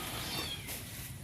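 Stray cats and kittens being fed, with a brief, faint meow against a steady hiss of background noise.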